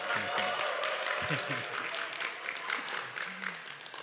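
Audience at a Korean parents' camp lecture clapping to welcome the speaker, a moderate wash of applause with a voice talking over it throughout.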